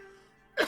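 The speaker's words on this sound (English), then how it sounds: "it's going to make you cough." After a faint low breathy lead-in, a single short, sharp cough bursts out from someone who has just smoked a joint, close and fairly quiet overall.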